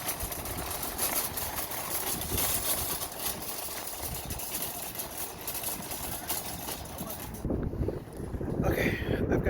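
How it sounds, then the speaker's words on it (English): Wind gusting outdoors in a backyard garden, a steady rushing buffet across the microphone that rises and roughens toward the end, fairly faint overall. "It's getting windy out here."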